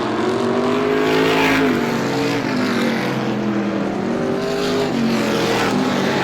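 Vintage modified race cars roar around Star Speedway during a green-flag feature, loud engines revving and sweeping past in a continuous howl with no talk over it.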